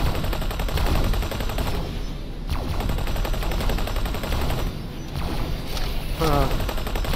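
Loud, dense bursts of rapid weapon fire from ship guns and turrets in the space game X4: Foundations, sustained over a hum of engine noise with brief lulls, continuing nearly unbroken.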